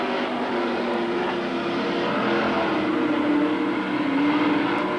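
Super stock race cars roar around a dirt oval at Magic City Speedway in Billings, Montana, a steady loud engine drone with rising and falling revs as the pack circles through the final lap.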